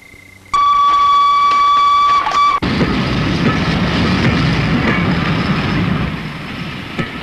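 A stationary mail train in a Bengali film scene starts with a loud steady whistle-like tone, then a sharp boom and a heavy continuous rumble of the train getting under way, with no talk.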